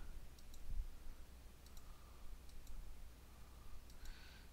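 Keys on a TI graphing calculator click faintly in small, irregularly spaced bursts of light plastic taps against a quiet, hissy room background.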